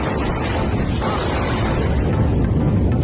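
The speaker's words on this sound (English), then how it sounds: "Double sonic booms." Double sonic booms from returning rocket boosters: a deep, rolling boom fills the whole stretch, loud and distant-sounding, like thunderous blasts rumbling together without a break.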